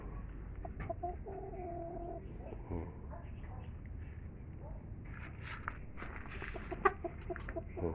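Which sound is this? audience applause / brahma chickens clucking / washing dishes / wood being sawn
brahma chickens clucking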